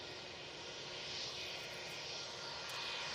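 A Lufthansa Airbus A319 crosses runway 23 right at Manchester Airport, giving a faint, steady jet engine hiss and rumble heard from afar.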